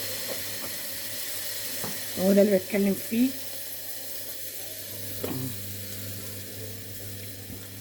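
Steam hisses steadily from a pot of vermicelli cooking in milk, a soft continuous sizzle under someone speaking briefly, with a few faint clinks in the kitchen.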